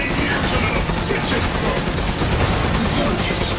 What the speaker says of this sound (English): I'm just trying to shoot the weak spots